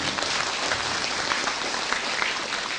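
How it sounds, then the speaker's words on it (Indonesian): Even, continuous applause from a studio audience at a televised religious study gathering, broad steady clapping of many hands with no talk over it. "Tepuk tangan sekali buat beliau."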